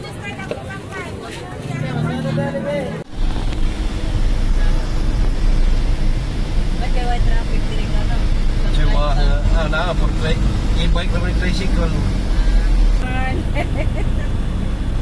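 Steady road traffic noise, a dense rumbling engine hum near and loud, with people talking over it.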